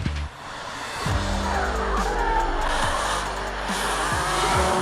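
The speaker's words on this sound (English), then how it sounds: "This is the first professional drifting Ferrari in the world." A professional drift Ferrari slides sideways with loud, sustained tire squeal over a roaring engine, the revs rising and dipping as it holds the drift.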